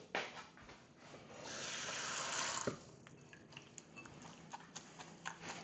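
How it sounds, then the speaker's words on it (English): Water is poured into a bowl to soak bread and vinegar for gazpacho, a quiet rushing splash for about two seconds that cuts off, followed by faint kitchen clinks and taps. "And then we're going to soak that in water."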